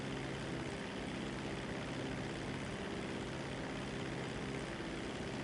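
Steady airplane engine drone from a propeller plane in GTA V Online, a continuous broadband roar holding at an even level throughout with no talk over it.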